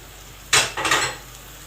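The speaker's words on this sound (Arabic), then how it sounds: "بعد ما ضفت البصله بقلب اهوت" Onion being stirred in a hot pot while green fava beans cook, a couple of short scraping, sizzling bursts of spoon against metal, close and fairly loud with no talking.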